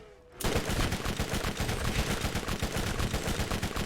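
Rapid automatic gunfire in the video game Borderlands, shots fired at an orb, a dense steady burst of repeated cracks starting abruptly after a brief quiet moment and continuing loud throughout.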